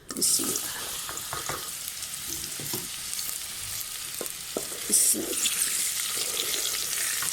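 Cut raw mango pieces drop into hot oil with browned spices and nigella seeds, setting off a loud close sizzle with stirring scrapes and a sharp burst midway, no voices.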